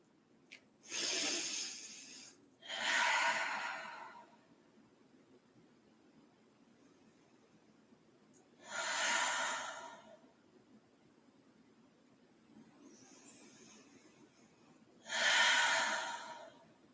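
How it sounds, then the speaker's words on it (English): Slow, deep breaths during a yoga session: four long airy exhales spaced several seconds apart, close and clear, with quiet pauses between them. "give yourself 3 to 5 nice deep breaths"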